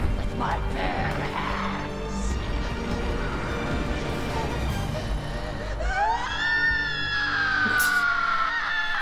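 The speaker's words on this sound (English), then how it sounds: "That scream." In Resident Evil: Revelations 2, a crashing, rumbling commotion gives way to a long, rising and wavering scream that holds loudly near the end over the game's noise.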